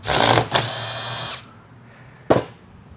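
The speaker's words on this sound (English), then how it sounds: "We'll just put that on this impact here, don't have to pull it off." An impact wrench with a 10 mm socket whirrs loudly for about a second and a half on 6L80E transmission bolts, goes quiet, then gives one short, sharp burst near the end.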